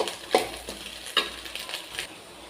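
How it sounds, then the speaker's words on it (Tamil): Egg noodles fry in a pan, making a soft sizzle broken by a few sharp scrapes and clinks of a utensil stirring against the metal, close and fairly quiet. "நல்லா ஃப்ரை ஆகுது"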